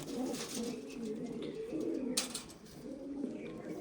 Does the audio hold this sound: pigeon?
yes